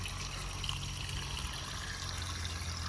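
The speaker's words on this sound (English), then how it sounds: "These are river rocks for the water to spill down on." Water trickles steadily down river rocks into a backyard bluegill pond, a continuous close splashing with a low hum beneath it and no voices.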